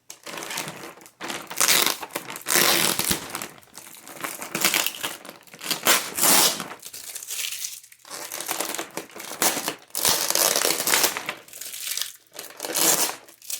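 Plastic wrapping from a Temu package of toys crinkles and crackles steadily as it is pulled open. The rustling is close and fairly loud, and no one speaks.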